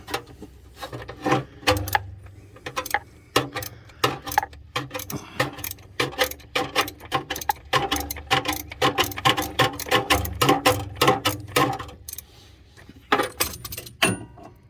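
A wrench works loose a tight oil drain plug on a 2005 Mini Cooper with rapid metallic ratcheting clicks and clanks in irregular bursts, close and loud, with no voices.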